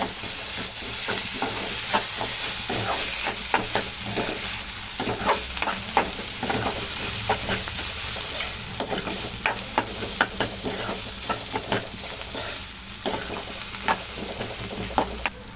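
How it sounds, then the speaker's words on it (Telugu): Ginger garlic paste fries in a pan while being stirred for an egg podi, with a continuous sizzle broken by frequent rhythmic scrapes and clicks of the spoon against the pan. "అల్లం వెల్లుల్లి పేస్ట్ వేస్తున్నాను"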